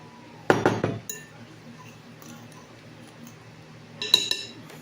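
Banana bread batter being mixed with flour in a bowl, heard as two short bursts of clinking utensil against the bowl, with quiet moments between them.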